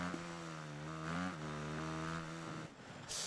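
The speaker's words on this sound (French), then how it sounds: "les motos 3 font ce bruit là hein" A Moto3 racing motorcycle engine in the video game Ride 3 revs with a buzzing, rising and falling whine, fairly steady and quiet, ending in a brief burst of noise.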